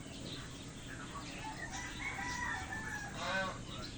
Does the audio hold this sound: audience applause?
no